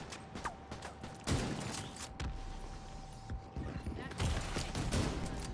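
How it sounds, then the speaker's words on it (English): Rapid bursts of gunfire ring out in a video game shooting match, sharp cracks landing in clusters over a steady background of game ambience. "somebody was shooting me hard"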